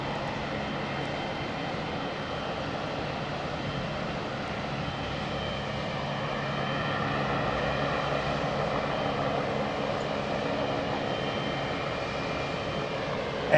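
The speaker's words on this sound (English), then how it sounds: "allow that 321 to touch down" Airbus A321 airliner touching down at Heathrow, a continuous distant engine roar and rush that builds gradually louder toward the end, heard alone without talk.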